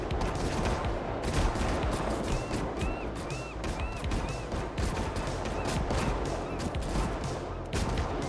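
Rapid gunfire from a character shooting in Sons of the Forest rattles in dense, continuous bursts over a busy game soundscape, with faint voices underneath.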